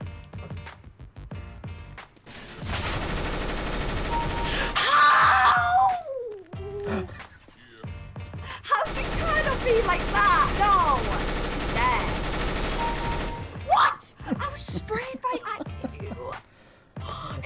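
Bursts of MAC-10 submachine gun fire in a CS:GO one-versus-one match, two long rapid volleys with short gaps, loud and close, with players talking and exclaiming between them.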